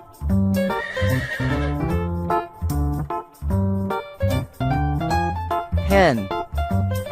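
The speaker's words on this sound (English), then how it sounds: "Horse." A horse neighs amid a loud, tonal backdrop, with a long, shaky descending whinny standing out near the end.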